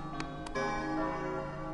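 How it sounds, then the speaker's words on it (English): A bell rings in the Kingdom Hearts Chain of Memories video game: two quick bright strikes followed by a sustained, resonant chime with game music underneath. "The bell!"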